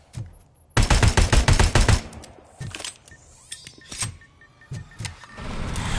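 Full-auto gunfire in the game RoboCop: Rogue City, a loud rapid burst of about a second followed by scattered single shots, clanks and mechanical whirs in the game scene.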